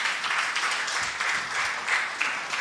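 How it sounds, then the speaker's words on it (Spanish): Church congregation applauding during a worship service, a fairly quiet, steady patter of many hands with slight swells, heard somewhat distant and without voices on top. "dele un aplauso al Señor"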